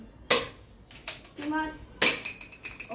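Toy gun firing at cones, sharp cracks: one near 0.3 s, lighter ticks around 1.1 s and a second loud crack at 2.0 s, with brief clatter and faint background sounds between.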